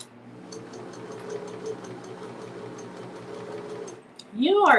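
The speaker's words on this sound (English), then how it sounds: "I'm sewing." A sewing machine stitches a small boxy zippered fabric bag, running with a steady, fairly quiet mechanical whir. A voice speaks briefly over it at the end.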